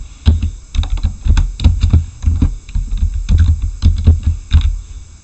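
A computer keyboard clacks close by as someone types a short phrase, giving a quick run of irregular key taps with brief pauses between them.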